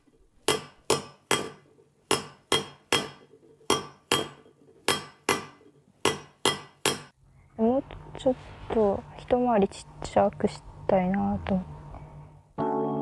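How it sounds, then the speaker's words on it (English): A woman hand-hammers a copper vase shaped from one flat sheet, drawing in its opening with about fifteen sharp, ringing metallic strikes in an even rhythm. A narrator's voice then speaks over faint background hum. "She hammers it further to draw it in."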